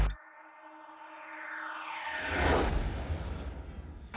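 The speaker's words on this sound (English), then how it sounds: "a little riser and a swoosh" Synthesized riser sweeping upward in pitch for about two seconds, then a broad swoosh with a low bass thump, used as a transition into a sad rap beat; loud and alone with no talk.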